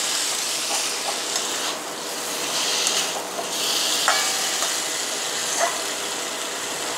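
Spices being stir-fried with potatoes in a pan for a home-style jackfruit and prawn curry, a steady close sizzle with occasional scraping stirs, heard alone without talk.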